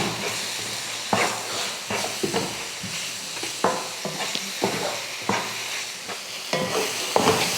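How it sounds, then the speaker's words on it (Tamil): Egg gravy masala with chilli powder, turmeric, curry leaves and coriander being stirred in a pan, giving repeated scraping strokes over a steady sizzle, moderately close with no talking. "இப்போ இதையெல்லாம் நல்லா கலந்து விட்டுருவோம்."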